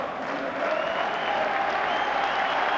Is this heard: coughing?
no